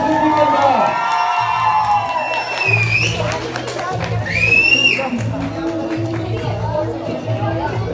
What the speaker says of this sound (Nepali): एकदम जोरदार ताली